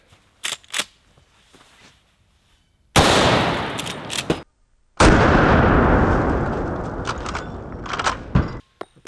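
A 45-70 lever-action rifle firing 325-grain Hornady FTX rounds outdoors: two loud, sharp shots, each followed by a long rolling echo, with small clicks and knocks of handling before and between them.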